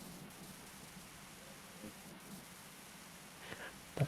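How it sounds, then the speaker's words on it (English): Rain and thunder: a steady hiss of rainfall runs through the whole clip, with a low rumble underneath and a couple of faint bumps near the end. "Also, it's thundering over here."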